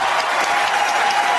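A studio audience at a Kannada TV game show claps loudly and continuously, a dense, even wall of applause with no talk over it.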